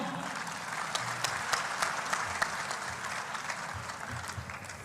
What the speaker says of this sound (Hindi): एक जोरदार तालियां शुभम पांडे जी